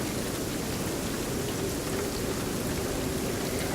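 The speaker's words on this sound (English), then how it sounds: "It starts raining very hard and is very windy." Heavy rain roars as a steady, dense hiss with a low windy rumble underneath, continuous and unbroken throughout as a stormy ambience.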